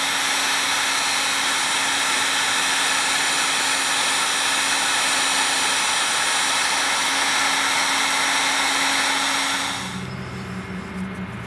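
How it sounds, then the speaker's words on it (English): A heat gun blows steadily on an old gummed-up carburetor from a 1976 Honda GL1000, a loud, even hot-air roar close by that drops to a quieter hum near the end. "So I used the heat gun, heated this a bit, put more PB Blaster on and tapped it, and as Randak would say, voila."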